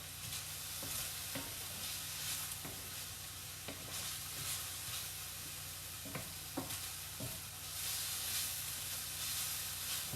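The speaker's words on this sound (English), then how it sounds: "I'm going to make sure I'm moving these onions all around the pan" Onions sautéed in sesame oil in a pan where beef was just browned, a steady sizzle and hiss under repeated scraping and stirring strokes, close and continuous with no talking.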